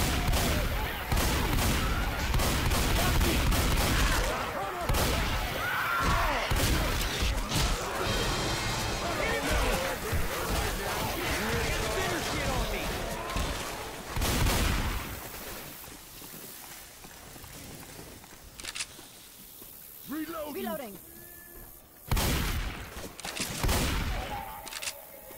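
Rapid bursts of video game gunfire crackle through a Left 4 Dead style zombie match with a witch nearby, dense and loud for the first half, then thinning to scattered shots as players talk over it.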